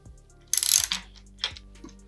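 A ratcheting 15 mm socket wrench loosens a bicycle freewheel nut, giving a quick burst of close metallic clicking and then two shorter clicking strokes with pauses between them.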